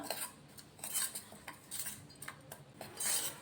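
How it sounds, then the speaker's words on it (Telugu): Spice masala mixed with oil into a paste, a spoon scraping and clinking against a bowl in irregular quiet strokes, faint and close with no talk. "ఆయిల్ వేసుకుని దీన్ని బాగా ఇట్లా కలిపేసుకోవాలి ముద్దలాగా అయ్యేలాగా"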